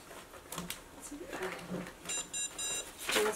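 Barcode Battler handheld card scanner giving a series of short electronic beeps as a homemade barcode card is swiped, with a voice talking before the beeps.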